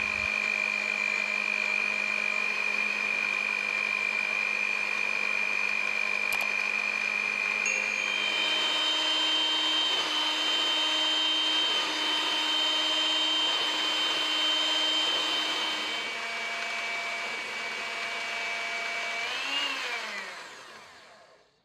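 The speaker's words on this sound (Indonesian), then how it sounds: "Aku mixer semua bahan ini sampai menyatu dengan speed rendah ke tinggi." Stand mixer kneading bread dough for a fiber-rich comb bread, a steady motor hum that rises in pitch as the speed steps up from low to high, then winds down at the end, with no talk.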